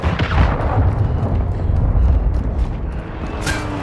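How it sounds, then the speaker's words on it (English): Heavy booming blasts and rumbling impacts from a cruise missile strike in Call of Duty: Modern Warfare 2 on PS5, continuous low rumble with a sharper burst near the end, no talk. "Hostiles launched a cruise missile."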